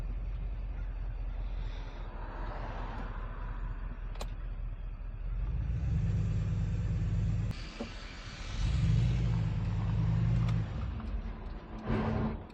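A V8 hot rod rolls slowly at about 20 mph through road construction, its low exhaust rumble swelling in two heavy surges, with sharp clunks and rattles as it crosses rough pavement.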